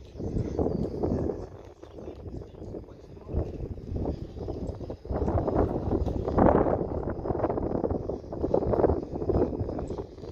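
Strong wind buffets an outdoor microphone at a flying field in steady, gusting rushes of low roaring noise that swell and fall across the whole stretch.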